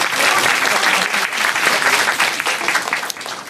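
An audience applauds in a dense, sustained burst of many hands clapping at once, close and loud, holding steady throughout before easing slightly at the end.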